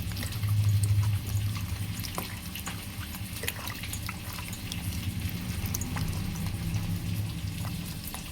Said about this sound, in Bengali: এরপর আমি বেগুনগুলো ধুয়ে নিচ্ছি ভালো করে